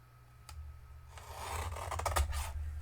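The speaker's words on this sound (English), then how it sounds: "might need to trim this a little bit." A rubber stamp being trimmed, close rasping and scraping strokes that start sparse and grow denser and louder toward the end, alone without talk.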